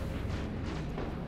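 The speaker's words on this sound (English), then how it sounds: "The shotgun!" A shotgun blast fired in the video game Destiny, a single heavy booming burst that fills the short clip, loud and dense with a rumbling tail.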